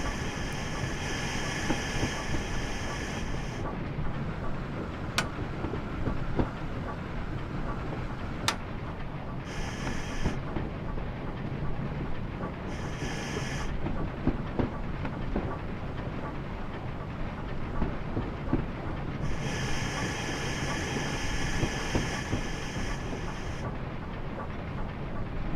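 Hunslet steam locomotive running in Train Simulator on the Spa Valley Railway, a continuous rumbling rail roll with rhythmic clatter and intermittent hissing bursts of steam, steady and moderately loud with no talk.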